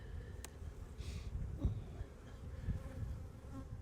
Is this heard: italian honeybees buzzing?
yes